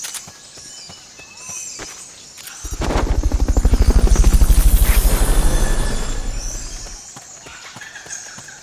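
A helicopter in Metal Gear Solid: Peace Walker swells in with a loud, pulsing rotor thump, passes close for a few seconds, then fades away, with quieter hooves and footsteps around it.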